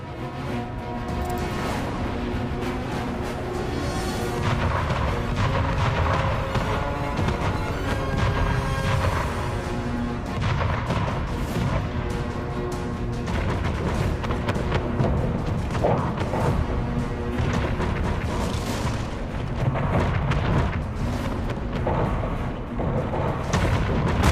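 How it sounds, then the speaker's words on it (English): Big Bertha coastal gun firing during a naval battle in Anno 1800, heavy booms rolling one after another over a dense, continuous wash of battle noise and music with no clear pauses. "Big Bertha is the most powerful coastal gun in the game."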